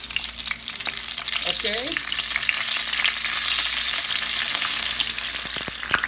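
Chorizo with chilies and onions frying in a pan, a steady close sizzle with occasional stirring scrapes and a brief spoken word.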